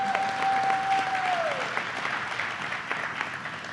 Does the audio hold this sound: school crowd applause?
yes